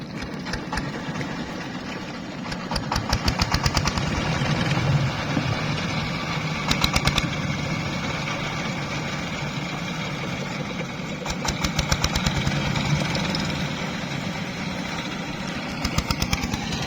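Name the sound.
engine boat arriving from the ghat on the Jamuna River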